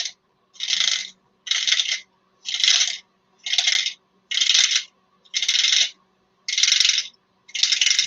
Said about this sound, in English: That's called making money. That's the sound of money.